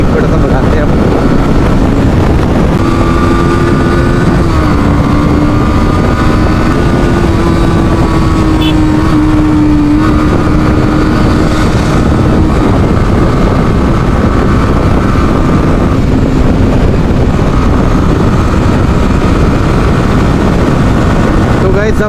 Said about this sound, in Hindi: तो गाइस थोड़ी बाइक भगाने का टाइम आ चुका है, तो बाइक थोड़ा सा भगाते हैं अब।